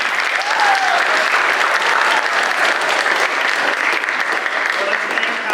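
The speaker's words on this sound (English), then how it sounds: "Round of applause for them." An audience in a church sanctuary applauds a high school concert choir with dense, steady clapping that stays even and close for the whole stretch, with no voices over it.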